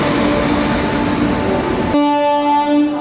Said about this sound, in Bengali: তো ট্রেন আমাদের পৌঁছেছে এখন রামপুরহাট স্টেশন।